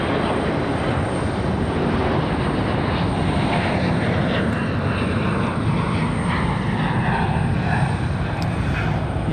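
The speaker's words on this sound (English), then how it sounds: "CRJ departing over here on this side." CRJ regional jet departing Raleigh-Durham International, a loud, broad, continuous engine roar dominated by low rumble, sustained evenly throughout without any voices.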